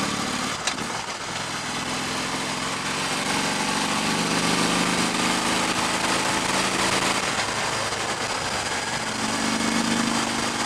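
A 2015 Harley-Davidson Electra Glide Ultra Limited motorcycle on the road, its engine a continuous droning rumble under wind noise, shifting in pitch as it rides.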